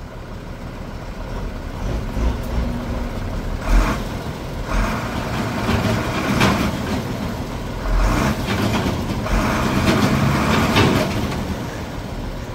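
Fendt 716 tractor engine working hard under throttle during field sowing, a steady loud diesel drone with rhythmic rattling and surges in intensity, running throughout without talk.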